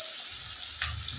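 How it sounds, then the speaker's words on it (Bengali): Kofta balls dropped into hot mustard oil give a steady, bright hiss of frying. A brief louder crackle comes near the end, and a faint low rumble runs underneath. "তেল গরম হয়ে গেলে মা একে একে এবারে এই কোফতাগুলোকে দিয়ে দিচ্ছে।"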